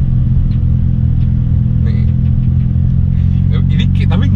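A low-mileage Mazda RX7 Spirit R's rotary engine rumbles steadily up close with a deep, even idle and slight rises in revs, while people talk over it.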